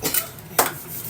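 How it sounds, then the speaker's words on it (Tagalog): Tofu and bean sprouts being sautéed in a pan, with two short, close metallic clinks of a utensil against the pan over a faint sizzle. "Nagigisa tayo ngayon"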